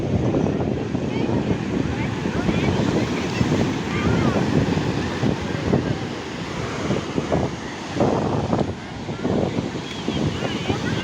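Sea waves wash onto the shore at Somnath, a steady roar of surf mixed with heavy wind buffeting the microphone, swelling and easing throughout.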